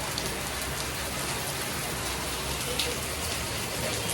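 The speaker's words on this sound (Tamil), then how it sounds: "மழை பெய்ய ஆரம்பிச்சிச்சு." Heavy rain pours down steadily and close by, a dense unbroken hiss of drops hitting surfaces for the whole stretch, with no voices over it.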